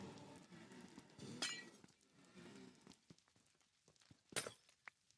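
Glass blocks being placed in Minecraft Bedrock Edition, giving a few short, sharp glassy clinks spaced apart, with one louder crisp clink near the end, set against quiet game background.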